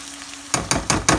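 Soaked rice and minced meat are stirred together in a pot for stuffed zucchini boats, four quick, close scraping strokes in an even rhythm with no voices.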